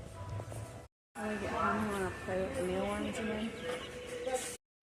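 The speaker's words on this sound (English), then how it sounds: "Chickens." Chickens cluck and coo close by in a backyard coop with a food bowl, a run of short rising and falling calls broken by brief silences, with faint talk in the background.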